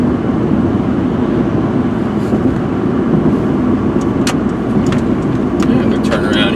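A blue 2000 Saturn SC1 three-door car drives with a steady, loud engine and road roar from inside the cabin. A few light clicks sit over the continuous hum.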